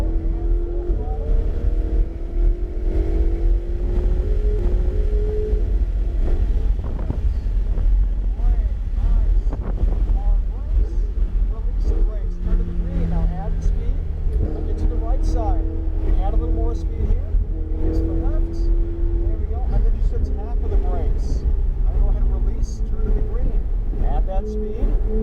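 Ferrari race car at full throttle at Portland International Raceway, a steady engine roar with rising and falling tones heard from inside over heavy wind buffeting, while an instructor talks throughout.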